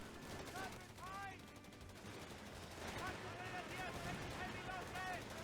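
Gunfire and explosions from a World War II real-time strategy game, a Panzer III tank gun among them, forming a dense battle din of bursts and booms with someone talking over it.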